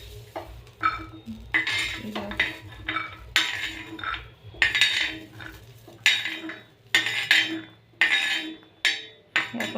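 Roasted green beans being lifted from a hot pan, with a series of close, sharp metal utensil scrapes and clinks in an irregular rhythm over a faint background sizzle, and no talking.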